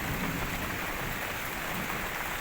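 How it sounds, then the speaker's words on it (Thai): Heavy rain pours on a forest shelter built of banana leaves and small trees, a constant, dense hiss of falling water with soft low patters, steady and fairly close. "ฝนตกแล้วครับตอนนี้"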